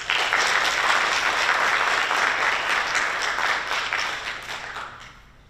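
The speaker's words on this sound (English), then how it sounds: "more round of applause, please" An audience at a Women's History Month showcase applauds steadily, a dense wash of clapping that holds strong and then tapers off toward the end.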